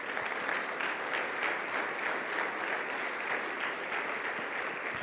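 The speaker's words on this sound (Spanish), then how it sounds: "Dale un aplauso al Rey de Reyes." A Sunday church congregation gives sustained applause, a steady, fairly distant roar of many hands clapping that holds evenly for about five seconds.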